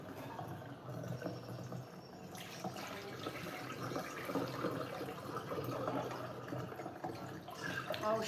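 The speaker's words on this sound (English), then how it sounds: "Just rinse some lentils down the sink" Tap water runs steadily into a kitchen sink as lentils are rinsed, a continuous splashing rush that shifts in tone partway through, no talking.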